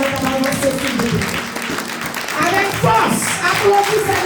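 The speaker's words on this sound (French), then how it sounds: "Applaudissez le Dieu." Church congregation applauding during a French-language service, a dense spread of clapping running throughout with voices and a speaker talking over it.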